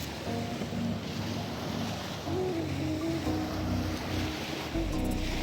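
Ocean waves wash in around Thailand's Phuket and Phi Phi Island coast under a pre-rain sky, a continuous surf wash mixed with gusty wind noise and a low motor-like hum, no voices.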